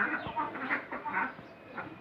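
A pair of white domestic ducks calls in a run of short, nasal honks, several in quick succession at moderate loudness, close by with a faint background hum.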